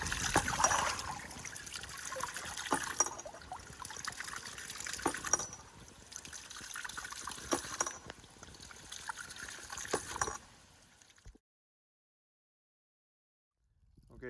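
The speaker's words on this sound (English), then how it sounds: "Okay, so the water's flowing" Water from a pump pours steadily out of a 200-foot, half-inch poly pipe in a continuous close rushing gush, with brief surges, before it stops abruptly and the sound drops to near silence.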